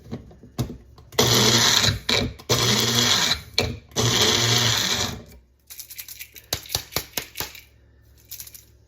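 Food processor pulsing bacon in short loud whirring bursts, three long pulses followed by a rapid series of brief rattling taps, close and alone.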